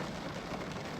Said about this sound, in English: the rain sounds really therapeutic